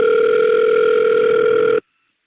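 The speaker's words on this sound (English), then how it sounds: "At least it's ringing today." A telephone line tone sounds through the handset, a loud, steady electronic buzz that holds evenly for almost two seconds and then cuts off abruptly into silence.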